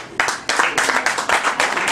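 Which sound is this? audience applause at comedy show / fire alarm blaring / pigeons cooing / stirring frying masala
audience applause at comedy show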